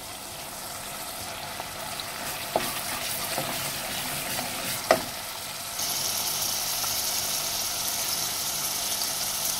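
Green chillies and coriander fry in a brain masala, a continuous close sizzle with occasional spoon knocks and stirring scrapes, the sizzle swelling brighter partway through, no voices.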